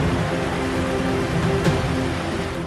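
Heavy, steady rain pours down amid flood conditions in Araria district, a dense broadband hiss with no voices, continuous and loud throughout.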